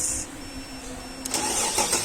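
A car engine cranks and catches, running after its starter is fed 12 volts directly while diagnosing an immobiliser no-crank, no-start fault; the start comes as a brief burst of broadband noise followed by a steady running rumble.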